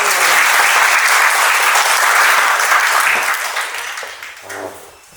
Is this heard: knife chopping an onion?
no